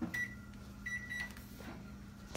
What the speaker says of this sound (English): We set timers on the oven. On the microwave for the oven.